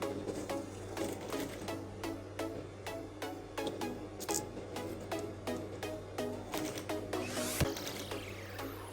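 A sewing machine runs in quick regular bursts, stitching the seam of a plain bodycon office dress, each pulse close and mechanical, with a brief pause near the end.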